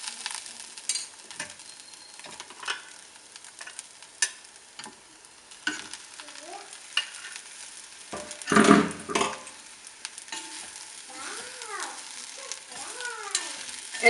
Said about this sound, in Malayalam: എല്ലാം കൂടെ നന്നായി മിക്സ് ചെയ്തെടുക്കാം